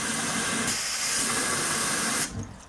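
Water runs steadily from a tap into a cup in a loud, continuous hiss that cuts off abruptly near the end.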